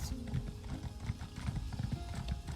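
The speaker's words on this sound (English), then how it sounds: "Alright, let's get on our horse." Horse hooves clip-clopping in the Elder Scrolls Online video game, a steady rhythmic trot of repeated hoofbeats at moderate volume, close and clear with no talk.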